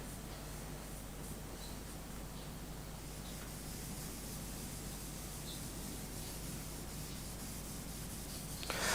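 Pencil graphite rubbed onto paper for solid tonal shading, a quiet continuous dry scratchy rubbing close by with no pauses.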